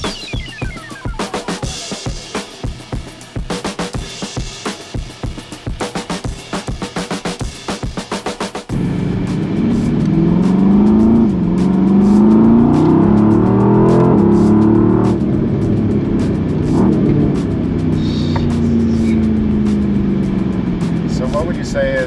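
A Mercedes-AMG GT R engine hums and surges through gear changes while people talk over it; rhythmic music plays for the first several seconds.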